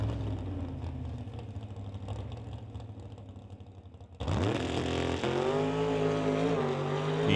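A drag race car on a qualifying run at Mission Raceway, heard as a distant rumble before a sudden loud roar bursts in and holds a strong rising engine whine through the rest.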